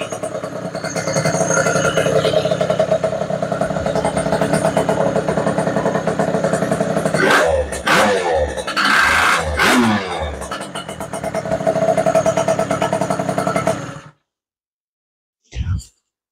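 A motorcycle idles steadily close by with a light metallic rattle from the clutch running under the engine, a few blips of revving midway, then it cuts out.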